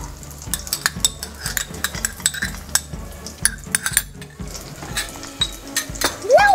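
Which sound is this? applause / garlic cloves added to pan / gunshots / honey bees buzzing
garlic cloves added to pan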